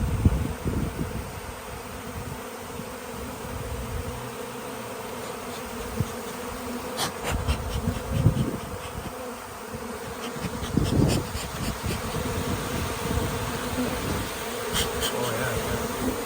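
Honeybees buzzing steadily and densely during a hive rescue in Kaneohe, Hawaii, a continuous close swarm drone with occasional rustling and knocks, no speech.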